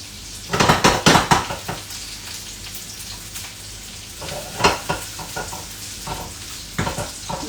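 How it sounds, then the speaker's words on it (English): Onions hitting a hot pan and sizzling, with clattering stirring strokes in bursts over a steady low fry; close and moderately loud, no talk. "I'm going to add the onions first. Ooh, nice sizzle."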